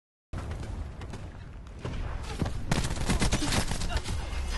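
Light machine gun fire in the shooter game Black Ops 4, rapid bursts of shots that grow denser and louder after a short start, with a voice talking over it.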